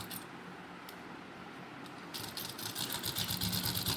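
Sewing machine stitching fabric for men's underwear, a quiet low hum that picks up into a faster, rhythmic needle chatter in the last couple of seconds.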